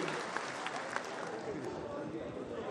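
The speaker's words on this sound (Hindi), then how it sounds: "तालियों की जोरदार गिड़गिड़ाहट के साथ में उनका अभिनंदन करें, स्वागत करें" A crowd at a political event in Rajasthan applauds to welcome a speaker, a dense continuous clapping that fills the whole stretch at an even level, with a voice over a loudspeaker faintly audible beneath.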